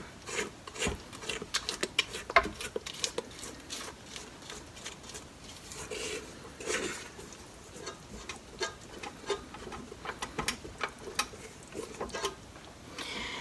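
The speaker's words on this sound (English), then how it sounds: "And then we're going to mix this for 2 minutes." Cinnamon roll dough being mixed in a bowl, heard as irregular rasping, scraping and rubbing strokes that come in uneven bursts at moderate loudness, close by, with no voices.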